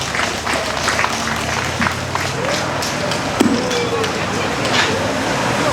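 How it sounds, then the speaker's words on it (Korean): Crowd at an outdoor memorial event claps together, a broad steady wash of applause with scattered sharper claps, slightly distant and heard under faint background voices. "여러분 큰 박수 부탁드리겠습니다"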